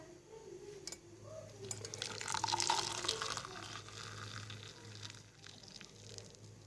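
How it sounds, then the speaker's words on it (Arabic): Boiled herbs, guava leaves and lemon strained into water, giving a steady soft trickle and splash of liquid that swells in the middle and keeps running throughout, faint and close. "غليناه ورايحين نصفوه"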